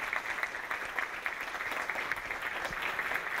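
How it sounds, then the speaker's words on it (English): Soft, sustained clapping from an audience at a public workshop presentation in Laredo, faint and even throughout. "I'd like to really give them a round of applause"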